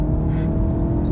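An Alfa Romeo Giulietta Quadrifoglio's engine and exhaust give a brief, steady, throaty drone, close and fairly loud, with no talking.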